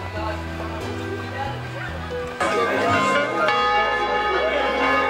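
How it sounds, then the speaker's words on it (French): Church bells ring out steadily in overlapping tones announcing the start of Mass, loud and sustained, with a second heavier peal joining partway through. "Les cloches retentissent, le début de la messe est annoncé."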